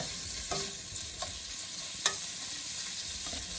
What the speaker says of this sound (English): we're going to let this pork salt just kind of saute down for just a few minutes